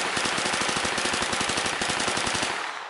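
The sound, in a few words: bump firing a rifle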